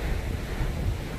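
Sea waves heard from the balcony of a Royal Princess cruise ship, a steady broadband wash of surf mixed with heavy wind buffeting the microphone, continuous with no distinct breaks.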